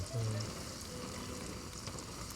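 Eggs frying in hot oil for a Jaffna odiyal puttu meal, a steady close sizzle and crackle running the whole time with no voices.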